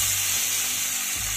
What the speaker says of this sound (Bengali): এবার বাকি মাছগুলো ভেজে নেব।